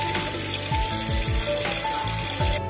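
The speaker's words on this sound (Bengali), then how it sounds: "আমি এটা বেসিনে নিয়ে গিয়ে প্লেস করে দেবো এবং ওপর দিয়ে জল ছেড়ে দেবো" Tap water runs into a sink over a steel pressure cooker holding Bengali rice, a steady continuous gush with splashing. No speech.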